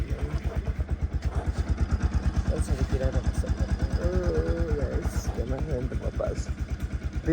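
A motorcycle engine started and running steadily in Marpha, Mustang, its regular low thumping pulse loud and close throughout, with voices talking over it.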